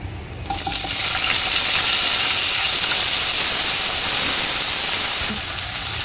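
Bell peppers hit hot cooking oil in a kadhai with kalonji, fennel seeds and asafoetida, setting off a loud, steady sizzling hiss that holds for several seconds after an abrupt start.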